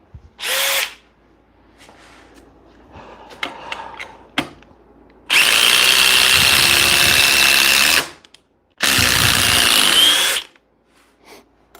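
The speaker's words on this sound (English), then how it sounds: "your friend and mine, the DeWalt DCF 860" Two long bursts from a DeWalt DCF860 impact driver, loud and harsh with a dense rattling hammer, run for about three and two seconds each, preceded by shorter brief whirs and clicks.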